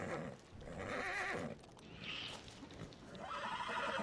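A horse in Red Dead Redemption 2 gives loud, close whinnies with hoof clip-clop, two neighing bursts separated by a short gap and no talk.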